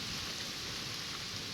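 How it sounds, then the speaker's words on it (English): Heavy rain pours during a severe thunderstorm over New York Harbor, a dense, even hiss of downpour holding steady and fairly loud without pause, with no thunder standing out. "It's only rained heavy for like a minute or two."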